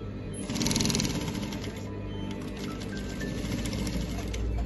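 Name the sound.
sewing machine stitching senator placket seam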